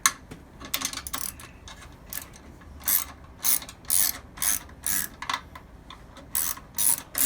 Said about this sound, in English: we're going to loosen this one a little bit more